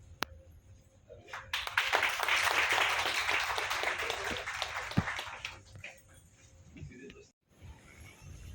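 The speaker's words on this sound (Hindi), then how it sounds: "कृपया तालियां बजाते हैं" Audience applause at a BJP membership-drive workshop meeting for the Indirapuram mandal, a steady burst of clapping lasting several seconds that thins out before a pause, with some voices and murmur underneath.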